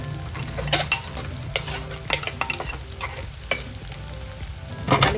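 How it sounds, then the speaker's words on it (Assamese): Onions with green chillies fry in a pan until lightly browned, a steady close sizzle with frequent spatula scrapes and taps against the pan, for an Assamese vegetarian thali. "পিঁয়াজখিনি অকণমান ৰঙচুকৈ ভাজি লওঁ।"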